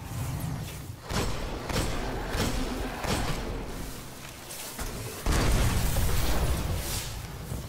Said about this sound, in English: And he walked into the explosion too.